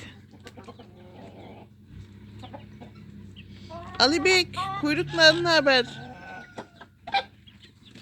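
Free-range farm chickens cluck and squawk in a burst of loud calls midway, with quieter fowl sounds and people talking throughout.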